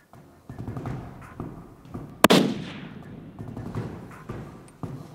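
Single sharp rifle shot on an African hunting safari, a loud crack with a short rolling echo, heard amid outdoor background and low voices.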